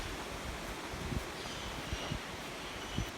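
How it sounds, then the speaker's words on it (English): Wind blows outdoors across the microphone in a steady low rumble and rustle, with a few soft gusty thumps, fairly quiet and with no talking. "Forgive the wind"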